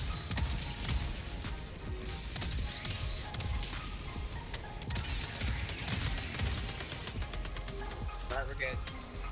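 Gunfire in Helldivers 2 during a Bile Titan fight, rapid volleys and bursts of shots mixed with explosions, loud and dense under excited talk from players.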